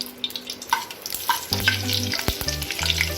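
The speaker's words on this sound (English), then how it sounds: "Then we'll add our Kashmiri red chili powder into this oil." Kashmiri red chili powder frying in two tablespoons of hot oil in a pan, a loud crackling sizzle with quick stirring clicks and a low steady hum beneath.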